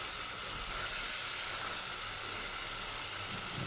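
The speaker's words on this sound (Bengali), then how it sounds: "এখন আমি মাছের মাথাটা আগে দিয়ে কষিয়ে নিব।" Fish head sautéing in spiced oil in a pan, a steady broadband sizzle that holds evenly throughout without pauses, close and moderately loud with no voices over it.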